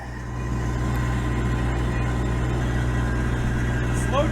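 A Perkins 4-108 marine diesel engine runs at a steady idle, a constant low rumble that fills the whole clip at a close distance, with a brief faint chirp near the end.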